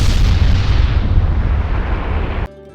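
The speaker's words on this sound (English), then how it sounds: "What a massive explosion!" A massive explosion in the Naruto Shippuden anime rumbles as a loud, sustained, deep roaring blast that cuts off abruptly near the end.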